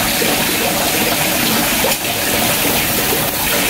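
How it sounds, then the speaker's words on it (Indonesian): Water spraying steadily from a garden hose onto dirty window glass on a front terrace while flowers are watered, a loud continuous hiss and splash throughout with a brief dip near the middle. "Kacanya agak kotor, kita siram sambil nyiram bunga seperti ini."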